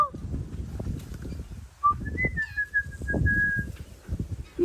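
King Parrots give a few thin, whistled calls, clear and fairly near, over a steady low rumble of background noise.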